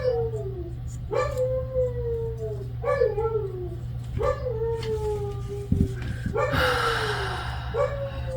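Dogs indoors at home let out repeated howls and yips, sliding whining cries in a loose rhythm about once a second, close and fairly loud over a steady low hum, with no talking.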